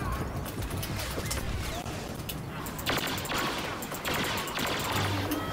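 Rapid bursts of gunfire in Star Wars Battlefront (2015) multiplayer crackle over a dense, noisy background, with a few sharper volleys toward the end.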